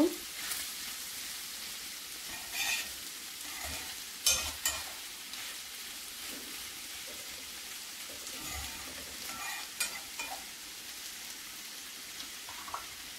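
Mixed vegetables cooked without spices sizzle softly in a pan while being stirred and tossed, with scattered scraping knocks of the spoon over a steady low fry; fairly quiet and close, no talking.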